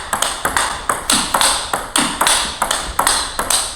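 A table tennis ball striking a Butterfly Harimoto blade in a steady rally, about a dozen crisp, close taps spaced roughly evenly, each a sharp hollow ping with a brief decay.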